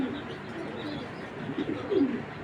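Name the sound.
racing pigeon, Afsan grizzle hen, cooing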